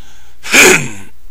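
A single sharp, breathy cough in the video game 9 Hours, 9 Persons, 9 Doors stands out clearly against near silence.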